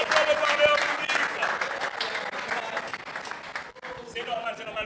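Audience at a youth centre talk on public speaking applauds steadily to encourage a speaker, dense clapping from a room of people that holds for several seconds with a brief dip near the end, with talking mixed in.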